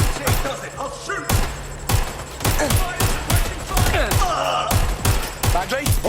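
Rapid gunfire in the video game Watch Dogs Legion: loud, dense volleys of close shots and thuds rattle almost continuously, with brief gaps and game sounds mixed in.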